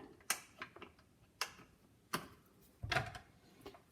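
A kitchen toaster being switched on while preparing avocado toast, giving a few sharp, separate mechanical ticks and clicks at uneven intervals, close and fairly quiet, with no talking.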